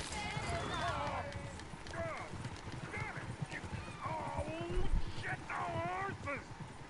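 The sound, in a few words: horse hooves clip-clopping in the video game Red Dead Redemption 2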